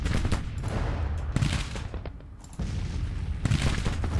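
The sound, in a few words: artillery fire in video game Grand Tactician: The Civil War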